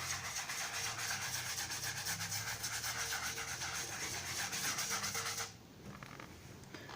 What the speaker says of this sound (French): on prend la brosse à dents, on passe dessus.